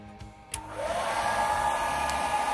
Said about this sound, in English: I've plugged a small hair dryer